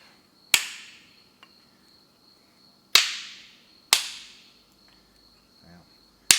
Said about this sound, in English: I'm going to have to whack out one with a hammer.